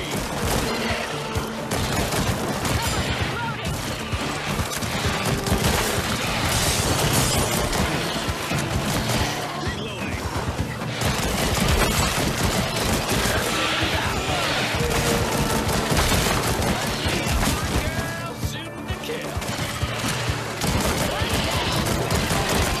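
Dense, continuous gunfire and impacts ring out in the VR shooter After The Fall, a loud, busy mix of rapid shots and crashes layered with game sounds and a voice speaking throughout.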